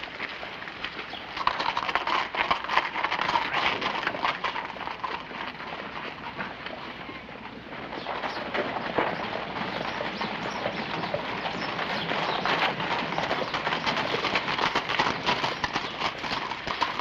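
A horse's hooves clip-clop steadily on the ground in an outdoor Western setting, a continuous rhythmic clatter at moderate distance, with faint birdsong in the background and no talking.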